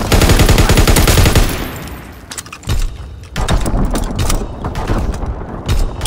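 MG15 machine gun in Call of Duty WW2 firing a rapid, loud sustained burst for about two seconds, followed by scattered distant shots, booms and mechanical clatter of battle.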